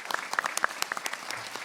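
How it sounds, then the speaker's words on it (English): An audience applauds political forum candidates at a district seat event, with scattered, moderately distant claps forming a light patter that continues steadily throughout. "Let's give them a round of applause."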